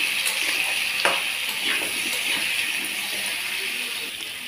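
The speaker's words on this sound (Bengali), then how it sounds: "দিয়ে আমি এটাকে নেড়ে একটু ভাজা ভাজা করে নেব।" Turmeric and salt being stirred and fried in a pan for a prawn and stalk curry, giving a steady close sizzle with a few scraping clinks of the spoon against the metal throughout.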